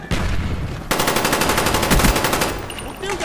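Rapid automatic gunfire in the video game Call of Duty: Black Ops, a brief opening burst then a long sustained stream of loud, close shots with a steady pulsing rhythm.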